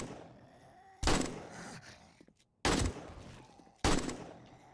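Three sharp, loud gunshots in 7 Days To Die ring out about a second and a half apart, each with a short decaying tail over a quiet background.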